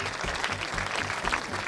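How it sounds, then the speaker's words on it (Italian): Brief, moderately quiet crowd applause at the Crepapelle comedy festival in Italy as jury members are introduced, a short dense patter of clapping with soft low thumps underneath. "Un applauso."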